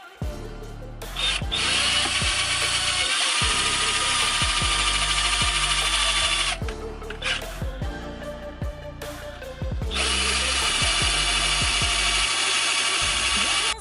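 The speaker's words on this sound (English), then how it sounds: "now let's go ahead and start screwing this out" A power drill runs in long, loud whining bursts as it backs a stripped steering wheel bolt out during an NRG quick release install, stopping and restarting with brief pauses between runs.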